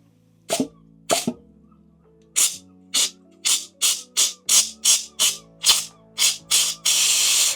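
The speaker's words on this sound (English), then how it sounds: "I'm just going to blast some brake cleaner through it" A run of about a dozen sharp aerosol brake cleaner spray bursts into Land Rover Discovery 4 engine timing gear parts, close and loud, in a fairly steady rhythm, ending in one longer continuous hiss; no talking.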